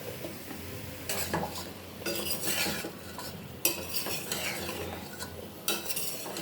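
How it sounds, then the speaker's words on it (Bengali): Potol and eggplant pieces fried and stirred in a pan, with repeated scraping strokes and light metal clinks over a soft sizzle, close and fairly quiet. "ভালোভাবে কষিয়ে নেব।"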